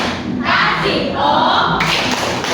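Fourth-grade pupils in a primary school classroom clapping in rhythm and chanting a spelled-out cheer for a classmate, loud and near, with voices joining the claps.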